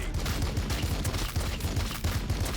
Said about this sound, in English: we're just going to open fire on everything we've got